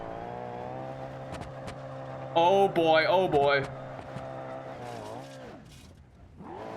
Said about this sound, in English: You also hear a slight whine of a supercharger